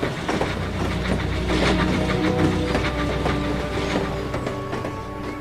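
Steam engine running on rails, a loud, continuous rumble with rhythmic clattering and faint metallic tones, close and steady throughout.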